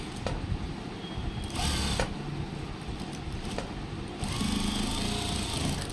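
A sewing machine stitches the front piece of a pair of trousers, its needle whirring in close, loud bursts with short pauses between runs and no talk.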